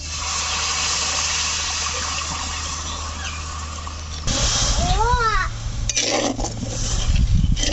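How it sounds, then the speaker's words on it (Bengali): Water pours from a bowl into a cooking pot of sugar for green mango candy, a steady rushing gush near the microphone, followed by brief clatter and a few sharp tonal chirps. "এক বাটি দিয়ে দেবো জল"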